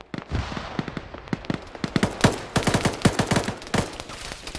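Rapid military gunfire from an Arma battle between Swedish forces and Russian insurgents crackles in dense, irregular bursts of sharp cracks, close and loud, with no talking over it.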